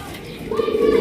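Racer pigeons in a cage give a brief, close coo that swells in the second half, over a low murmur of background voices.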